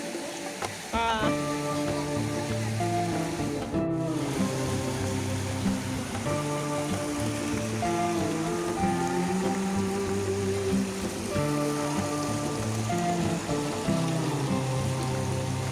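Water pours steadily from a spout at a children's water play spot in Pinus Eco Park, a continuous splashing rush heard close up with tonal sounds layered over it.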